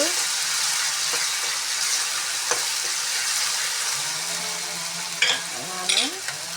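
Raw onion paste sizzles in a pan for a country chicken curry, a constant bright frying hiss up close with a couple of brief scraping stirs near the end.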